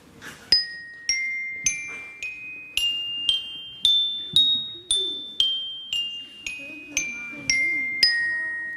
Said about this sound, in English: I'm going to play for you a scale on the bell set